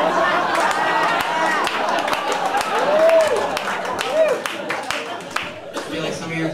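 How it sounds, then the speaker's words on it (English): An audience claps at a comedy show in a small club, with scattered, moderately loud applause blended into crowd chatter and whoops. "I feel like some of you are clapping for the wrong reasons"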